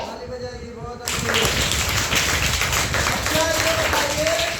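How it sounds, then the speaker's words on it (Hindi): Children in a classroom break into brisk group clapping after a second of quiet, with a short murmur at the start. The dense, rapid claps carry on evenly to the end while a few faint voices mix in. "ताली बजाइए, बहुत अच्छी।"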